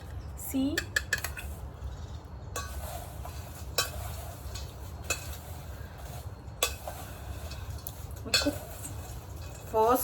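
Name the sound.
spoon mixing ingredients in a bowl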